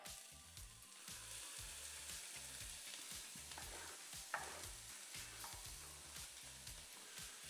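Onions fry over fairly high heat in a pot, giving a faint, steady sizzle with occasional stirring scrapes and small pops throughout, and no voices.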